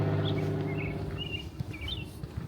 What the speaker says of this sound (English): Off in the distance you can hear the chirping of a bird that I do not know the name of